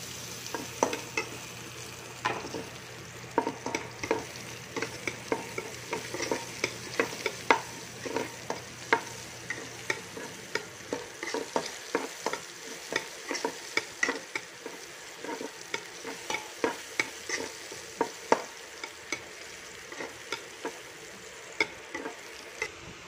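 Garlic and onion fry in a pan for pork dinuguan, a soft steady sizzle. A spoon knocks and scrapes against the pan in frequent irregular taps, fairly quiet, with no voices.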